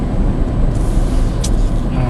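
Steady road and interior rumble from a Citroen C-Zero electric car driving, a continuous low broadband drone with faint tyre and wind noise and no engine note.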